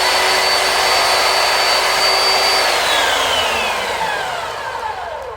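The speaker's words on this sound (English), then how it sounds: "you have to have the sander running when you do the tracking device" A belt sander runs with a steady, loud broadband whir and a high tonal whine, then winds down in pitch and level as it slows toward the end.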